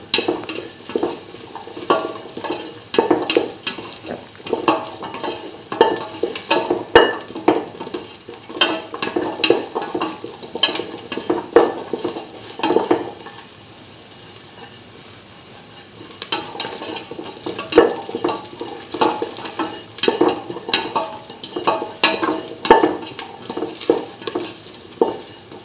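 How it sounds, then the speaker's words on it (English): A spoon scraping and clinking in a pot of salted curried chickpea yogurt rice, steady stirring with rhythmic metallic scrapes and soft sticky mixing, close and continuous with a short quieter pause midway. "thoroughly salt and mix."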